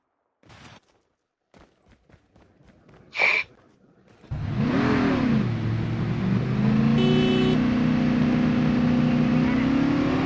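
An ATV engine in the mobile game Call of Duty Mobile's battle royale mode revs up loudly after a few sparse clicks and pops of gunfire, settling into a sustained, droning motor hum that continues to the end.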